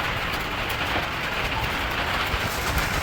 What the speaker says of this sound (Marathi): बघू शकता पाऊस कसा वाजतो.